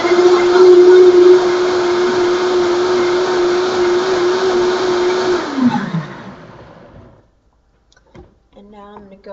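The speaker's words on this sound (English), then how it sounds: "in the Vitamix, I always start with variable, and I start with 1, and I increase it to 10 pretty quickly, and then I ramp it up to high" A Vitamix blender runs loud and steady with a strong motor whine, then winds down and stops, leaving near silence before a few small clicks and sounds.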